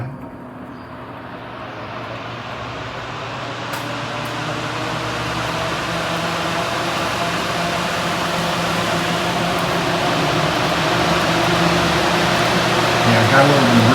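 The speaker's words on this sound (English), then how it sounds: "separate fan switches over here for each fan" A ventilation fan runs in ductwork with its own switch, a steady close broadband whoosh and hum that builds slightly louder over time, with no talking.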